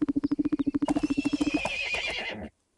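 A horse in the Barbie Dreamhouse stable game gives a loud, clear whinny over a quick run of steady clip-clop hoofbeats, then the call trails into a long, wavering neigh before the sound cuts off.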